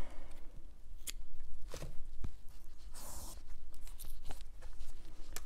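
Scissors cutting crochet yarn on a crocheted chocolate box shaped like a rabbit: a few sharp close snips among handling rustles over a steady background hum, with no talk.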